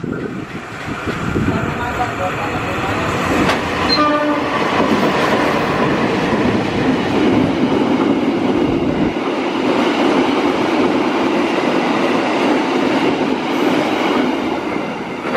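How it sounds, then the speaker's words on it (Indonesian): Indonesian passenger train hauled by two BBM diesel locomotives in double traction speeding past, a loud rushing roar with rhythmic wheel clatter and a brief horn near the start. "Ini dia BBM double traksi."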